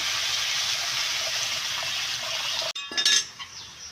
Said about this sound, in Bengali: এখানে দিয়ে দিচ্ছি গরম জল